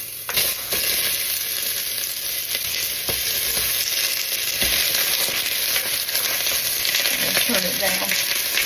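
Onions fry in a hot pan with a loud, continuous close sizzle and occasional stirring scrapes, heard with no talking.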